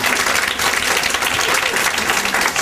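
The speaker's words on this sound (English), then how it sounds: "Give her a round of applause." A crowd gathered at a memorial tribute to a man shot in New York applauds, a loud, dense wall of clapping, close and continuous throughout.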